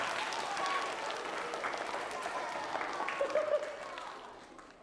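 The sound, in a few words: applause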